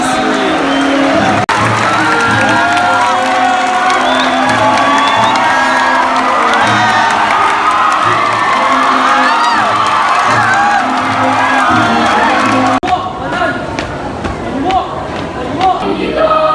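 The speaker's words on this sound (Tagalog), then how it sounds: "Laksan yung palakpak ko sa grade 10" A large school crowd at a 2019 moving-up ceremony cheers and claps loudly for grade 10 students, with shouts and whoops blending into a dense roar that drops off abruptly near the end.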